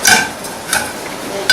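Walnut oil poured into a hot frying pan for Chinese fried rice, giving three short, soft sizzling bursts spaced about a second apart, with quiet kitchen noise between them.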